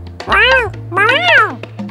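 A cartoon cat meows twice in long, rising-and-falling cries, close and clear over a low steady hum.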